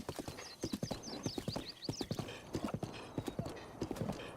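Horse hooves clip-clop in a steady trotting rhythm in Breath of the Wild, close and prominent, with an occasional whinny and bright chirping game sounds over the gait.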